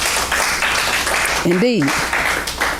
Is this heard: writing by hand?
no